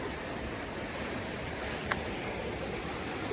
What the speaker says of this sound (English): That is a lot of water. And the spring comes out here and it comes together